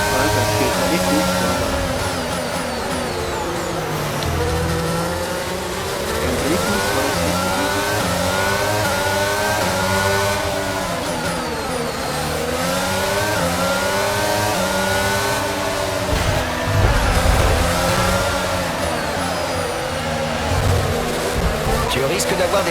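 Formula 1 car engine in F1 22 at Monaco, rising and falling in pitch through repeated gear shifts, loud and continuous, with someone talking over it.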